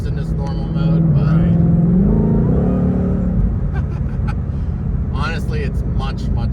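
A Shelby GT500 Mustang engine hums steadily up close, its pitch climbing then dropping with smooth, quick 7-speed dual-clutch gear changes in normal mode, while a person talks over it.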